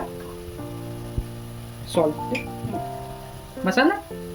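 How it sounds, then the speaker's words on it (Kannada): Boiled spinach frying in a pan for butter garlic mushroom palak rice, a soft steady sizzle running underneath a voice talking throughout. "ಸೊ ಅದು ಸ್ವಲ್ಪ ಫ್ರೈ ಆಗಬೇಕು"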